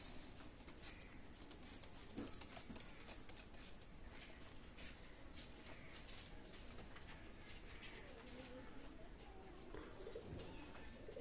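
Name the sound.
pigeons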